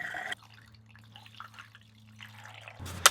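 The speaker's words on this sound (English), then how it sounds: "we're gonna pour some down those P-traps like we did when we did the air" RV antifreeze is poured down the P-traps during winterizing, giving a soft trickling, dripping flow with a steady low hum underneath and a louder splash at the very end.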